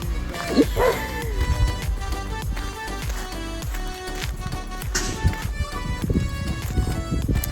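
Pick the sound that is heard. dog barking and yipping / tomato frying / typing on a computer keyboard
dog barking and yipping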